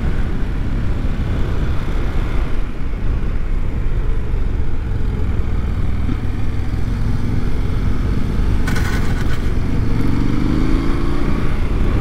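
A 2025 Indian Scout motorcycle rides steadily with a continuous low engine drone and road and wind roar, its note holding fairly constant throughout and briefly rising in pitch near the end.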